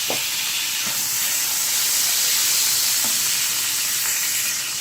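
Butter and oil sizzle in a frying pan with a steady close hiss, broken by a few faint clinks, and no one talking.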